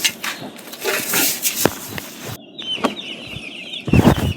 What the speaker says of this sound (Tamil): இது வந்து ப்ராய்லர் சிக்ஸு